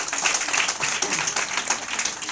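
Audience applause at a motivational speech event in Lucknow, a steady dense wash of clapping throughout with no voice on top.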